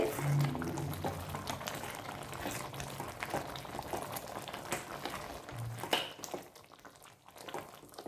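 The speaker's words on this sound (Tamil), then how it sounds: "எல்லாமே ஒன்றா சேர்ந்து நல்லா கொதிக்குது பாருங்கள்" A pot of potato masala bubbles and boils steadily, a soft continuous simmer with small pops and gurgles throughout.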